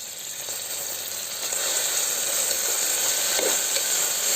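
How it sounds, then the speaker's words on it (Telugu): Coriander and mint frying in a pan for ghee rice, a steady close sizzle with bright hissing that swells slightly as it goes, with occasional stirring scrapes and no talking. "అది కాసేపు ఫ్రై చేసుకున్న తర్వాత ఫ్రై అయిపోయింది కదండి"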